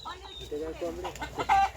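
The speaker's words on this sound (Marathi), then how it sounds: "कोंबड्या" Hens cluck in short, nasal bursts close by, with a faint voice mixed in.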